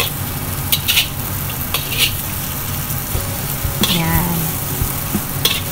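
Shrimp stir-frying in a pan for Singapore noodles, a steady sizzle broken by scraping stirs and clinks of a utensil, close up, with a brief spoken word partway through.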